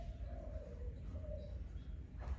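A Malaysian spotted dove gives soft, low coos that drift in and out over a dull background rumble, faint and a little distant.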